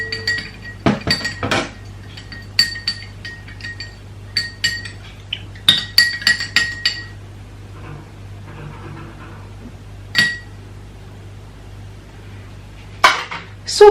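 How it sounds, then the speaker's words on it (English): A spoon clinks against a glass while stirring a honey detox drink, giving bright irregular taps in bursts, close and fairly loud, with quieter gaps between clusters. "Then I'll just stir it."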